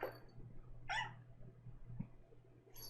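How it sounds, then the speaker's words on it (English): A cat meows near the floor indoors, two short faint cries with a low steady hum underneath and quiet room noise between them. "I have a very needy cat at my feet here, so if you can hear her meowing"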